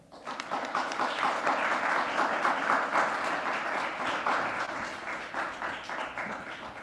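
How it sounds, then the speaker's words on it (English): Applause at the close of a pre-inauguration press conference, many hands clapping in a full, steady burst that swells early and then slowly thins toward the end. "Round of applause."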